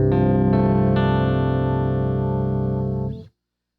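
Electric guitar on a clean tone, tuned down to drop C and run through a metal pedal setup, rings out a sustained chord for about three seconds before being cut off abruptly, with no talking.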